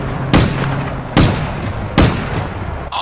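Three loud, sharp gunshots from the video game APB fire at a steady interval of roughly one per second, each with a quick booming decay, and a brief metallic clatter follows at the end.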